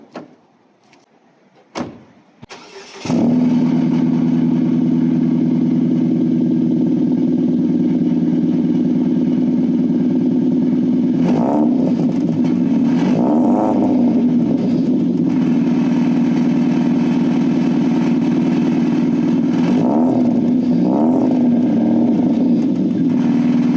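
A modified Ford Figo with a holed exhaust cold-starts after a brief door clunk and cranking. It settles into a loud, steady, raspy idle with a couple of throttle blips, close by and with no talk.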